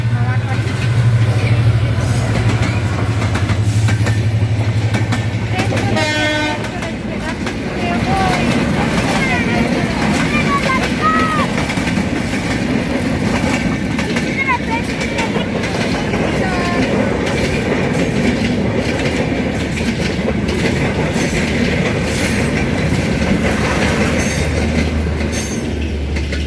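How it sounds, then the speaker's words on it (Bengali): A train passing a railway crossing at night, with a long horn blast at first, then a loud, sustained rumble and clickety-clack of wagons rolling by close, with voices talking over it. "এখন ট্রেন আসতেছে"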